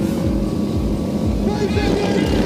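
Several dirt track motorcycle engines roar and buzz loudly together at a race start in a brief burst, a dense rising whine of many machines at once with voices mixed in.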